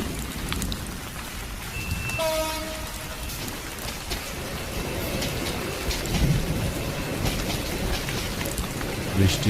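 Rain pours down at night in a cartoon ghost story, a dense steady hiss of drops with low rumbling beneath. A short tonal horn sounds near the start.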